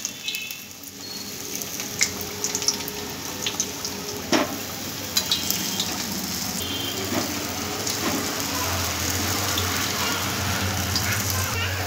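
Balushahi sweets slid straight into prepared sugar syrup, with soft splashing and liquid stirring sounds, a few sharp clinks and taps, and a steady low hum toward the end.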